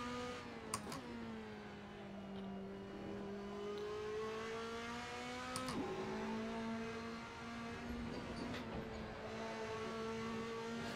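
A race car in a sim racing game revs steadily, its engine tone rising and falling through gear changes over a continuous drone, with a couple of brief sharp clicks along the way and no talk.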